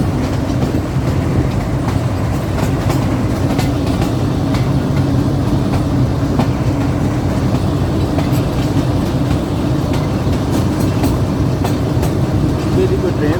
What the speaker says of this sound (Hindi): आगे चल के देखते हैं, कि हमारा लोकोमोटिव बहुत स्पीड पकड़ रहा है